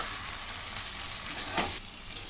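Brinjal and egg curry with onions and chili powder sizzles in a pan while being stirred, a soft steady fry with a brief scrape of the spoon near the end.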